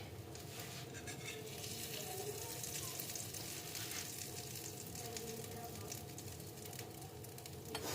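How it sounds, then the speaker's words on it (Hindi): Shami kabab tikki sizzles steadily on a hot griddle, a continuous close frying hiss held at an even level for the whole stretch with no voices over it. "हम इसी में कर लेते हैं गरम, क्योंकि हमारा तवा भी गरम ही है"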